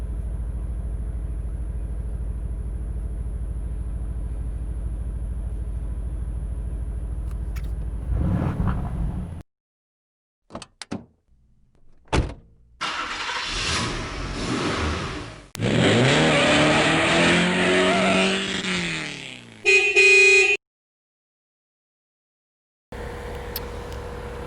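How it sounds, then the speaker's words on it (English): A 2020 Aston Martin Vantage Coupe drives past with a loud engine drone, then gives several sharp revving bursts and a rising acceleration split by abrupt cuts and silences. "this is the delicious, fun, fast, and delightfully British Aston Martin Vantage Coupe"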